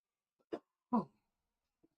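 Two short, close coughs, one right after the other, with a faint breath or throat noise trailing off afterward.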